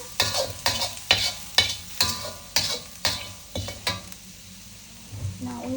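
Ingredients for white mehun are stirred and sautéed in a hot oiled pan, with a steady sizzle broken by repeated sharp scraping strokes of a spatula, close and loud, then a quieter stretch of frying.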